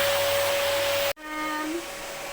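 An indoor vacuum cleaner roars steadily with a loud hiss, cuts off abruptly partway through, and then gives way to a quieter, lingering whine and hum.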